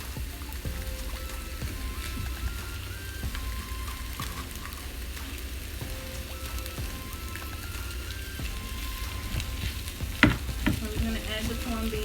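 Libby's corned beef hash fries over low heat with sautéed onions in olive oil, a steady close crackle and sizzle with faint scraping stirs and a sharper clatter near the end.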